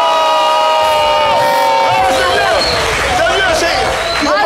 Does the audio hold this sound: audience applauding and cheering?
yes